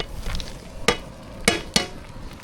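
Masala being stirred into thalicha curry in a pan: a few sharp spoon scrapes and clanks spaced over a soft, steady sizzle, close and alone with no talk.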